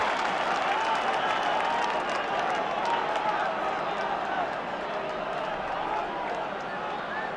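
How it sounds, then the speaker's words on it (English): Cork crowd at the 1987 Munster hurling final replay against Tipperary roaring and applauding a point, a broad distant stadium roar that holds steady with commentary running over it. "The Cork crowd saluting that 2nd point by Teddy McCarthy."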